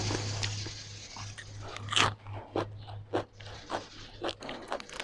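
Someone eats spicy Thai-Lao papaya salad with fermented fish and sticky rice, with close, repeated crunchy bites and wet chewing, one sharp crunch standing out among softer irregular ones.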